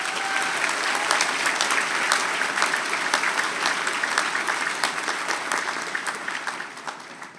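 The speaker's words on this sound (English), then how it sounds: "Let's give them a big round of applause" A convocation audience of graduates and guests breaks into a big round of applause, dense, loud crowd clapping that carries on for several seconds before gradually fading.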